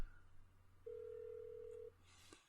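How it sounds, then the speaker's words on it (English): An incoming call on a telephone during a podcast recording gives a single steady electronic tone lasting about a second, faint and alone in a quiet room. "I'm getting a phone call."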